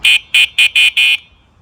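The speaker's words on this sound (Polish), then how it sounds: "A klakson brzmi tak." Five short, shrill electronic horn beeps from an iScooter iX5S electric scooter in quick succession, loud and close, the last one held slightly longer, then silence.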